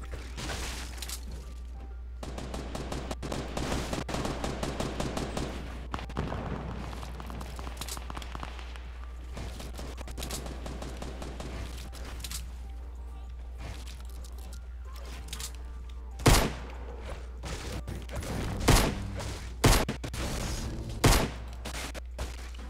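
Gunfire in Fortnite Season 5 gameplay, rapid crackling volleys over a steady low hum, followed by several louder, separate shots near the end.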